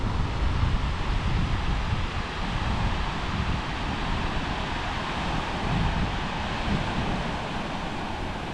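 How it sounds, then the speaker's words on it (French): A mountain torrent rushes below an alpine glacier basin near a refuge above Méribel, a steady broadband roar with no pause or break, carrying on evenly throughout. "Ah, le torrent il ravine hein."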